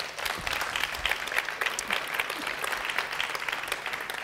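An audience at a talk on conspiracies claps in sustained applause, a dense even patter of many hands filling the room for several seconds without a break.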